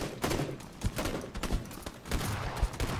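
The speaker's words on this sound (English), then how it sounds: "Someone's, like, shooting at you guys." Gunfire in the video game PUBG crackles in rapid bursts of shots, dense overlapping reports and thuds at moderate distance, continuing throughout with no talking.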